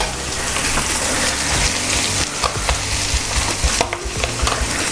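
Garlic fries in a hot pan beside sea bass, a loud, dense sizzle with constant spitting and popping crackles close by.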